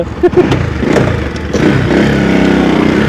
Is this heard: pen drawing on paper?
no